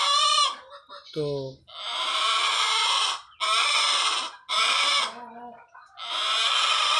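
Egyptian Fayoumi chickens and roosters cluck and call loudly at close range in several long, harsh bursts, with a brief spoken word early on.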